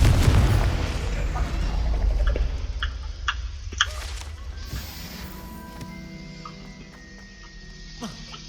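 A Confringo fire-blast spell explodes in Hogwarts Legacy with a loud, deep boom at the start that rumbles and fades, followed by scattered pops, ticks and magical chimes from the game.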